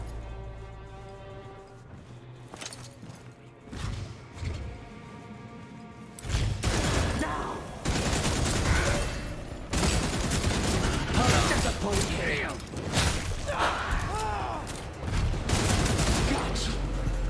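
Weapon fire in Redfall comes as repeated loud, punchy shots and bursts after a quieter opening, spaced unevenly amid game noise, with a voice talking between them.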